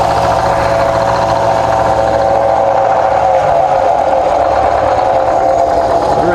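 An old sawmill engine idles with a slight knock, putting out a steady, loud mechanical drone with a constant low hum throughout.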